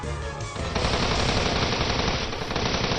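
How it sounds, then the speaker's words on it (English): Sustained automatic gunfire from the visual novel game Steins;Gate 0 roars loud and continuous for the whole stretch, a dense rapid burst with no talking. "The laptop and hard drive were hit with more gunfire than possibly could have been necessary."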